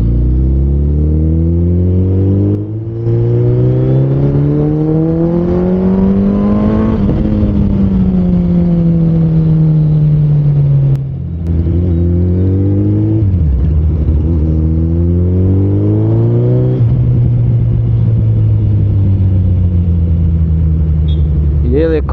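A Suzuki Hayabusa motorcycle on an open road near Chandigarh accelerates hard through repeated gear changes, the loud close engine note climbing, dropping briefly at each shift, then rising again in long sweeping runs.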